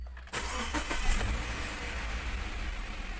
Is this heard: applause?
no